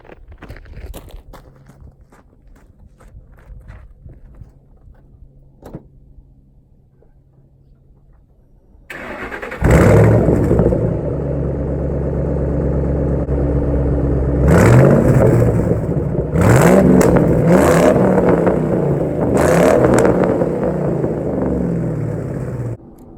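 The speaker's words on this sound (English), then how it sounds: "There's nothing quite like the sound of a Triton Ford V8" A 2005-2009 Ford Mustang GT with its Triton V8 starts after a quiet stretch, then idles loudly with a deep rumble broken by several sharp throttle revs, close to the exhaust.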